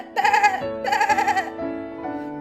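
Sheep bleat in a flock, two loud, wavering, near calls in quick succession followed by a fainter, lower bleat trailing off, with no voices over them.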